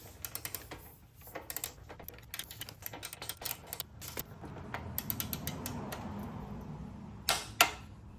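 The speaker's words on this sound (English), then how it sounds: "we're just going to torque this down now" Torque wrench tightening the axle nut on a Harley Lowrider during a front suspension rebuild, a quiet run of close ratcheting clicks and mechanical creaks, with a couple of sharper metallic clicks near the end.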